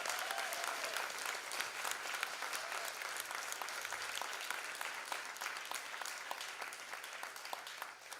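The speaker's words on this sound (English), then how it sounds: "Big round of applause for Smriti." Audience applause follows a dance performance at a live stage event, a dense, steady patter of many hands clapping that holds for about eight seconds at moderate distance, with no voices over it.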